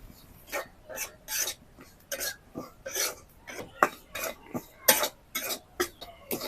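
Semolina toasting lightly in ghee in a pan, heard as a run of short, close scraping strokes of a spatula against the pan in an uneven rhythm, with a soft sizzle underneath.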